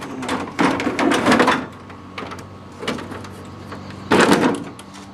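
The hood of a John Deere is lifted in several separate bursts of close clattering, rattling plastic and metal knocks, with quieter pauses between them.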